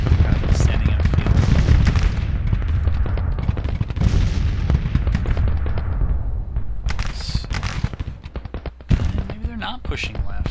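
Skirmishers' musket fire in a Civil War game set at the Battle of Shiloh crackles in ragged bursts, some shots close and sharp, others distant, while someone talks over the din.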